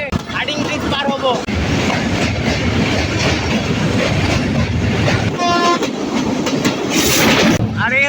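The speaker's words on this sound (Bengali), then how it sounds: "এখন আমরা টুঙ্গিপাড়া এক্সপ্রেস ট্রেনে হার্ডিং ব্রিজ পার হব" A Tungipara Express passenger train rumbles across the Hardinge Bridge with steady loud clattering and rail noise heard from on board, while people talk faintly in the background.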